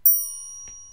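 A bright notification bell dings once, a sharp metallic strike whose clear tones ring on and slowly fade, followed by a faint soft thump.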